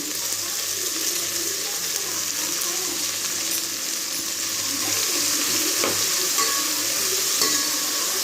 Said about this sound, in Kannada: ಇದು ಎಣ್ಣೆಯಲ್ಲೇ ಫ್ರೈ ಆದರೆ ಬೇಗ ಬೇಯುತ್ತೆ, ತುಂಬ ರುಚಿಕರವಾಗಿರುತ್ತೆ.